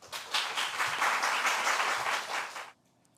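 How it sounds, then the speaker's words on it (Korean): Audience in a Korean church worship service bursts into warm applause to welcome a guest pastor, dense steady clapping for under three seconds before cutting off to near silence. "우리 나오실 때에 뜨겁게 박수로 환영하도록 하겠습니다"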